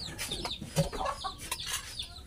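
A native chicken clucks several times close by, short choppy calls in a quiet rural setting with no voices.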